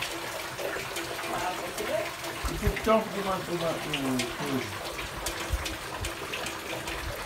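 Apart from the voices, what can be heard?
rainwater running on a farm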